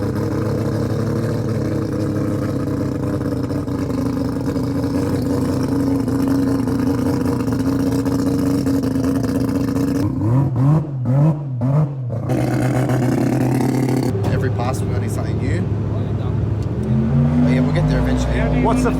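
Rotary-engined drag cars, including a Mazda 20B three-rotor, rev and race at a rotary jamboree, their buzzing exhaust drone loud and continuous, with sharper revving bursts and pitch changes near the end and voices faintly underneath.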